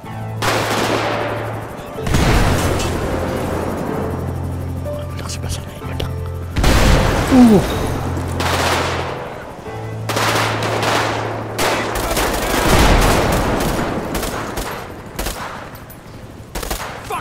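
Repeated bursts of gunfire crack and rattle in GTA 5 zombie survival game action, some rapid like automatic fire, scattered across the clip alongside occasional talk.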